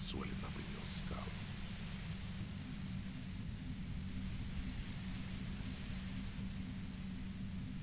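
Steady white-noise hiss with a low droning hum near a compressor in the Disco Elysium video game, faint and unbroken throughout, with no speech.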